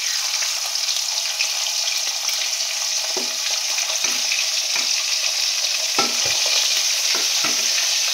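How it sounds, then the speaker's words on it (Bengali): Pieces of pomfret fish sizzling in a pan of oil, an even loud crackling hiss with several short thuds and scrapes of a spatula, no voices. "এভাবে আমি সব মাছ ভেজে নিয়ে দেখাচ্ছি।"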